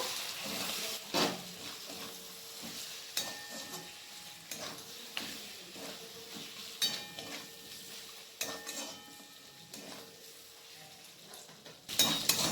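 Ground spice mix frying with chicken in a pan, a soft steady sizzle broken by scraping stirs and occasional clinks of a spoon against the metal, close and moderately quiet throughout.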